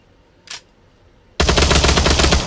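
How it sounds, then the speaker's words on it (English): A short mechanical click, then a loud, rapid burst of automatic gunfire from a firearm in the VR shooter game Pavlov, sustained and close for about a second. "And you can shoot"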